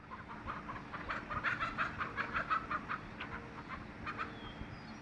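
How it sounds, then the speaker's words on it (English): A chicken clucks in a rapid, agitated series of calls while being chased by a cat outdoors, moderately close over a steady background noise. "There's a cat chasing the chicken."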